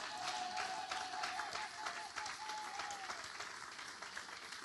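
A church congregation in Paris applauds and acclaims the Lord, steady rippling clapping with cheering voices, moderately distant and sustained with a faint held tone running beneath.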